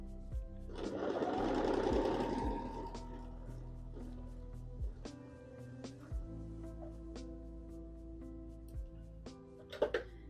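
A sewing machine stitching quilt pieces runs in a loud whirring burst for about two seconds near the start, then falls quiet apart from scattered clicks and handling knocks.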